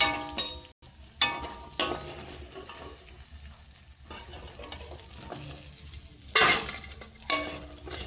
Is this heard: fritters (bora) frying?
yes